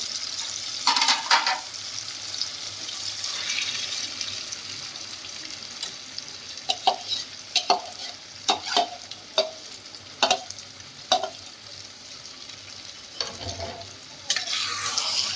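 Spiced chicken liver with marinated fenugreek stir-fries in a pan with a steady low sizzle, broken by repeated sharp scrapes and clinks of a spatula against the pan, close and fairly loud, with no one talking.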